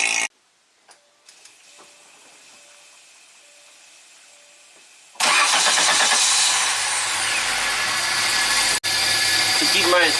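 A '91 Audi 200 Quattro engine, running rough without its intercooler, fires up after a few quiet clicks and a faint hum, then runs loud and steady with a brief dropout near the end.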